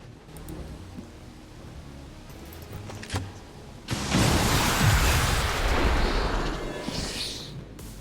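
A loud explosion from the video game XCOM 2 Long War of the Chosen, a heavy burst with a long, roaring, crackling tail. Faint game sounds come before it.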